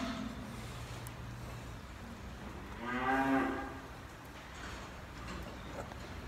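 A cow on a Dutch dairy farm lets out one drawn-out moo from a moderate distance, rising out of a steady barn background hum and fading after about a second.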